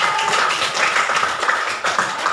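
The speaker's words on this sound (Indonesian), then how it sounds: "Tepuk tangan dulu untuk Risa" A classroom of students clapping for a classmate, a brief burst of many hands clapping together, close and fairly loud with no talk over it.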